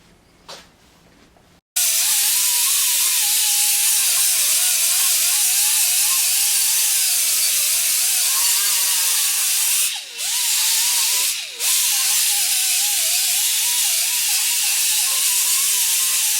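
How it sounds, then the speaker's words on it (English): An angle grinder cleans up metal on a 1957 Chevy truck, giving a loud continuous high whine that starts abruptly, wavers slightly in pitch and briefly dips twice as it bites the work. "now I just got to clean it up a little bit with a grinder"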